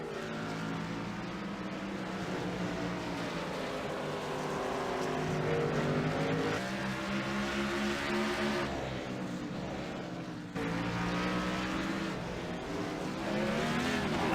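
Race cars roaring through turns 1, 2 and 3 at Sonoma Raceway, loud continuous engine whine that rises and falls through gear changes, with several cars passing close together.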